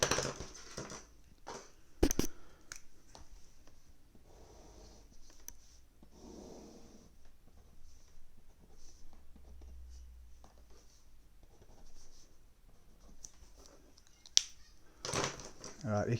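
A pencil sketching a cubic graph on paper, faint scratchy strokes and taps scattered through quiet moments, with a few louder clicks and rustles.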